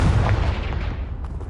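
A Confringo blasting spell in Hogwarts Legacy bursts against a piled barricade, a loud low boom that rumbles and decays over about a second and a half with scattered debris clatter.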